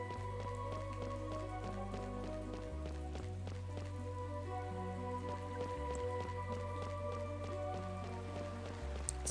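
Rain patters steadily in the video game Chained Echoes, a soft even drizzle with scattered drips beneath a quiet looping musical score, no voices.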